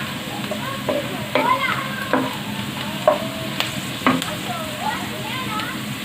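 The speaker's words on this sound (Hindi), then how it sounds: "थोड़ा सा और फ्राई होने देते हैं इसे।" Onions fry in a pot for achari chana pulao, with a steady low sizzle under the intermittent scrape and clink of a stirring spoon against the metal.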